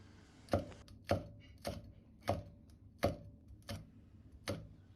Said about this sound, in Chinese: 喜歡吃辣的還可以切上一些小米辣